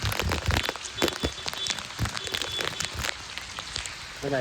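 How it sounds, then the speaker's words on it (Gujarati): Heavy monsoon rain pours down close by onto surfaces in Patan, Gujarat. A dense, steady patter is broken by louder splashes and drops striking near the microphone. "પાણી ચાલુ વરસાદ ચાલુ છે"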